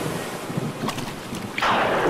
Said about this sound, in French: les énormes vagues firent que le navire heurta les rochers et se brisa.